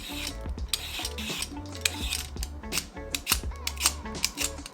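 A worn vegetable peeler scrapes ribbons off a zucchini in quick, uneven strokes, close and clattery with rhythmic rasps and knocks.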